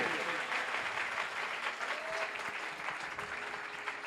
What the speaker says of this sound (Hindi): जोरदार तालियां लश्करों के खुदा के लिए।